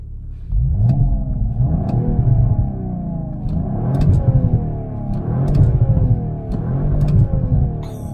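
A 2019 Audi RS5 with a V6 engine accelerates hard through several gears, its deep rumble rising in pitch and dropping at each shift, loud and close from inside the cabin.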